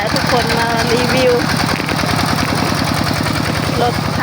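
A used two-wheel walking tractor imported from Thailand runs steadily while ploughing a sticky, muddy rice paddy, its single-cylinder engine thumping in a fast, even chug, loud and close, with a voice talking over it.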